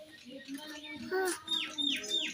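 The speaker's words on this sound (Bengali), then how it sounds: "কি ময়না? কালা ময়না?" A mynah bird calls close by with a few short chirping notes, then three quick descending whistles in a row, over low background noise.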